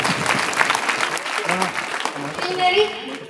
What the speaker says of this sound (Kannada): ಮಾಡಿ ಜೋರಾಗಿ ಚಪ್ಪಾಳೆ